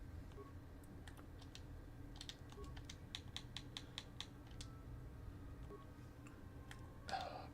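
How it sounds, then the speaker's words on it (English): Rapid faint clicks sound as an item is equipped in the video game Kotor 2, a run of light, irregular ticks over a low steady hum, ending in a slightly louder click burst. "Where you hear it clicking like this, it's equipping it."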